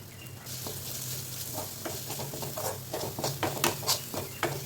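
Ginger garlic paste and masala sautéing in a pan for a green peas masala, with a steady soft sizzle and patter punctuated by scraping stirs that grow more frequent toward the end; no talking.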